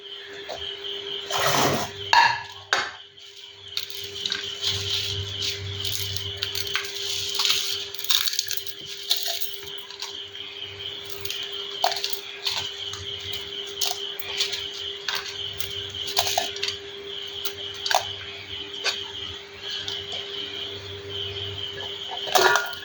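A mixer jar grinds roasted coconut with garlic, tamarind, ginger and salt in intermittent crunchy bursts, with a gritty rattling whir close by and a faint steady hum beneath.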